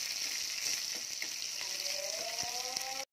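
Crushed small onions dropped into hot oil after mustard seeds, for a drumstick and lentil curry, giving a loud, steady sizzle and hiss close by that runs without a break and then stops abruptly, with no talk.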